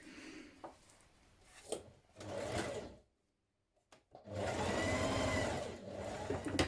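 A sewing machine stitches around the outer edge and a long straight edge of shirt fabric in two loud bursts, with a short pause and a few faint handling knocks between them.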